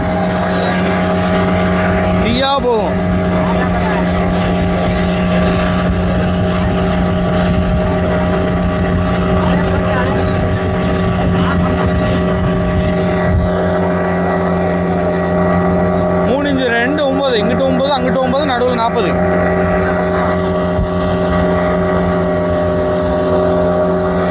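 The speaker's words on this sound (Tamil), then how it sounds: "போட்டு போகிற ஸ்பீடை பாருங்கள் பயங்கரமான ஸ்பீட்" A motorboat speeds past on the water near Goa, its steady engine drone loud throughout, with a pitch sweep as it passes and wind buffeting the microphone.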